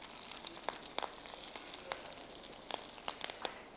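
Hot oil poured over fried onions for a tadka for zarda, giving a faint, steady sizzle dotted with sharp crackles and pops, with no voices.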